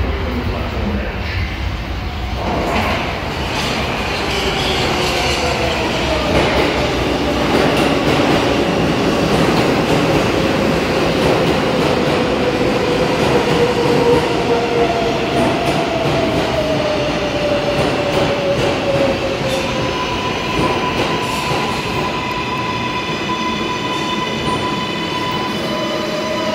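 An R142A 4 train pulls into Kingston Avenue subway station with a loud, steady rumble and rising, drawn-out wheel squeals, sustained throughout at close range.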